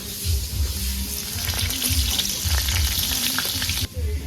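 Cinnamon, dried red chillies, cumin seeds and bay leaves fry in hot oil left over from frying fish, giving a continuous close sizzle and crackle with faint stirring scrapes and a low steady hum underneath.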